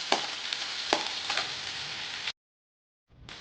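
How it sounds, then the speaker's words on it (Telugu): Onion frying in a pan for a black chickpea curry gives a steady close sizzle with a few stirring scrapes. The sizzle cuts out abruptly for a moment, then returns. "ఆనియన్ కొద్దిగా ఫ్రై అయిందండి."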